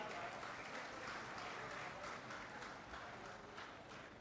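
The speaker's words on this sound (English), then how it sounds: "Once again, a good round of applause to all of you." Applause from a conference audience, a dense steady wash of many hands clapping in a hall, moderately faint and unbroken throughout.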